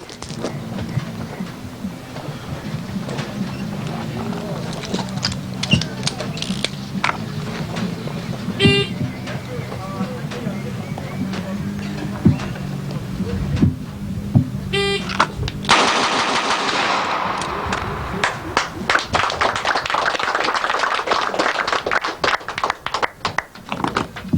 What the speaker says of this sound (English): So let's go ahead and shoot 6 rounds on a target, get an idea what it sounds like.